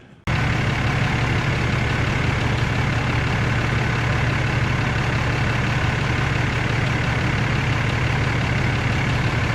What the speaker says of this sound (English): So it'll get a little noisy in here because I'll have to have the truck running.